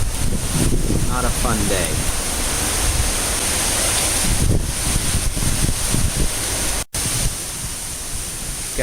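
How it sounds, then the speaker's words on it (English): Strong hurricane wind gusts of Hurricane Ian roar steadily against the microphone with a constant broadband rush, briefly cutting out once near the end, while a person speaks over it. "Got wind gusts of 62."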